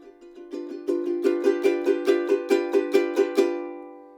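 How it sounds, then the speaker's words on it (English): Ukulele chord strummed repeatedly and increasingly hard, the steady strokes growing louder and harsher, slightly distorted and out of tune, then ringing out alone. "It gets kind of distorted and crunchy and out of tune"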